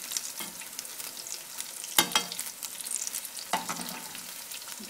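Potato and spinach pakoras fry in oil with a soft, continuous sizzle, broken by a few sharp crackles and scraping stir sounds, close and fairly quiet.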